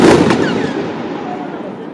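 A 20 mm, 30-shot whistle-to-crackle firework battery bursts with a sharp crack, then rising whistles and a long crackling hiss that fades slowly, loud and close.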